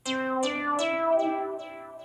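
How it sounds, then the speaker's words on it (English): Default classic synth voice of the Skoog app sounding a few bright repeated notes in close succession, each with a falling sweep, then fading out. "The default sound is the classic synth and it sounds like this."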